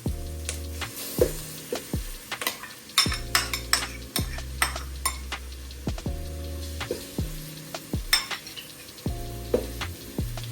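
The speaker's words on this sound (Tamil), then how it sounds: "இப்போ இதுக்குள்ள நாங்கள் இஞ்சி உள்ளி பேஸ்ட்டை போடுவோம்" Ginger garlic paste sizzling with onions in a pan for chicken biryani, a constant low fry under repeated sharp scraping and clinking strokes of a spoon against the pan.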